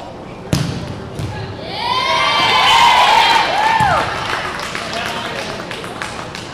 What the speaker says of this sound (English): Home crowd loves it.